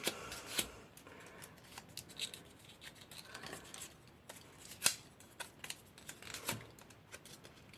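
Scissors snip the bottom off a paper petal in a string of quiet, crisp cuts at an irregular pace, close and soft, with faint rustling of paper between the snips.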